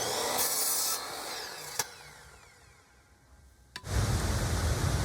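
A wooden board for a pirate chest is cut with a saw, with a broad rasping burst at the start, a quieter gritty stretch through the middle, sharp knocks near two and four seconds, then a loud return of cutting at the end.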